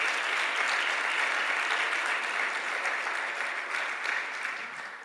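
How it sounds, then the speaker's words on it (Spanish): A congregation at a Spanish-language youth church service claps together in sustained, dense applause that holds steady for several seconds before tapering slightly at the end. "Aplaudan."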